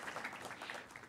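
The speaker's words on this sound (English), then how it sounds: "join me in a round of applause for our Physicians Executive MBA graduates" A graduation celebration crowd gives a round of applause for Physicians Executive MBA graduates, a brief, faint, steady patter of many hands clapping at a distance.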